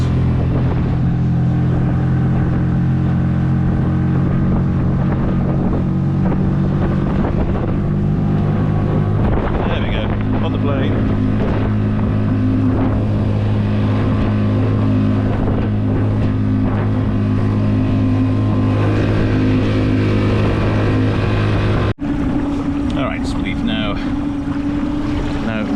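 A boat's 10 horsepower Honda outboard motor hums steadily with a strong low drone, wind buffeting the microphone and water rushing alongside throughout.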